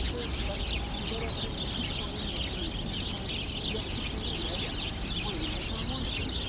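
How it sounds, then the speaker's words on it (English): Birds call and chirp steadily in a city park, with repeated tweets and coos over a dense murmur of crowd and traffic noise, fairly close but never loud. "I love the sound these birds are making right now."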